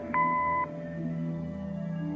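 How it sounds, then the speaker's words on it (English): A single steady electronic beep from an answering machine in the Kathy Rain video game sounds for about half a second, followed by a quiet background hum. "Leave a message after the beep"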